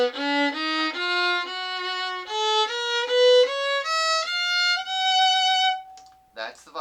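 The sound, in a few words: violin playing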